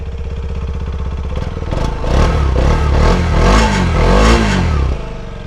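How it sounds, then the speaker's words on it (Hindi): A TVS Apache RTX motorcycle exhaust burbles at a steady idle, then the engine blips up into a few quick, louder revs with rising and falling pitch before settling back, close to the microphone. "एग्जॉस्ट नोट सुना देता हूँ मैं।"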